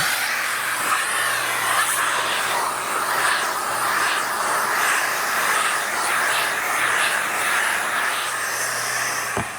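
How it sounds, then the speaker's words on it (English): A shop vacuum with a soft brush tool runs during a car wash, giving a loud, steady airy roar close by that holds unbroken from start to finish. "Just vacuum."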